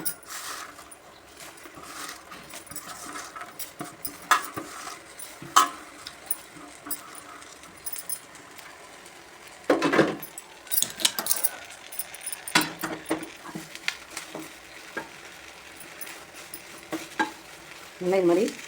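Curry leaves roasting dry in a pan for an Andhra-style curry leaf chutney, stirred steadily: a soft crackling sizzle under repeated scraping and clinking strokes of a spoon, close and moderately loud, with no talk.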